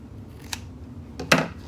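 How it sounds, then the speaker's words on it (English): Scissors snipping the fabric corners of a sewn bag lining, two short close snips, the second louder, in a quiet room. "we're just going to clip a little bit of fabric at the corners"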